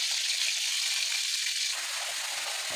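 Radhuni, cumin and bay leaf sizzling in hot oil in a wok: a dense, steady high hiss that eases slightly partway through, with no voices.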